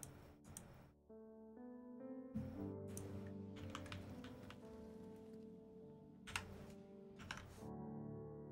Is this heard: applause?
no